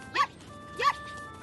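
A loose puppy barks twice in short, bright yips about half a second apart, fairly close and clear against a quiet background.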